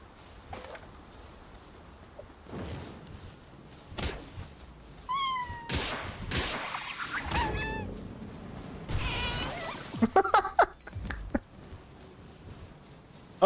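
Cat-like creatures in the video game Palworld let out short meows amid combat thuds and hits, with a faint insect-like ambience underneath and no talk.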